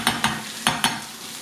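Garlic fries in a pan as beans with meat are cooked, a steady sizzle broken by four sharp scraping stirs, close and loud, with no talking.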